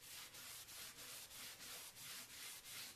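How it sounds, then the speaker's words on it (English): A cloth wipes excess Annie Sloan wax off a painted surface in steady back-and-forth strokes. The soft, rhythmic rubbing is close and quiet, with about eight even passes and no voices. "I'm wiping off the excess, and it kind of is buffing"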